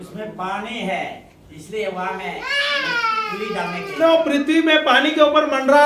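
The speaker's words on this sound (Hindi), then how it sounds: "बच्चा रो रहा है" A baby cries and wails through a sermon in Hindi, the crying mixed in with the preacher's voice and loud throughout.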